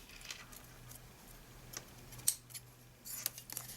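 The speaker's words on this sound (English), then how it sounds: "I'm just going to trim these ends slightly because they look a little bit long to me" Scissors trim the ends of paper for a handmade pleated card, giving a few faint, brief snips against a quiet background with a low hum.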